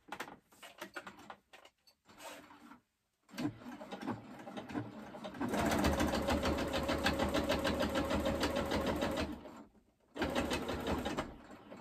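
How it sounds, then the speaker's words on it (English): A sewing machine backstitches the final seam of a pleated fabric face mask, a steady rapid mechanical whir running for several seconds after shorter bursts of stitching, close and loud. "here, you guys, is where you want to backstitch, like on this final seam"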